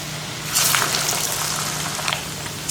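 Masala vada patties made from ground lentils, chili, fennel and garlic frying in hot oil, a steady loud sizzle with a sharp burst as a fresh vada drops in, close up.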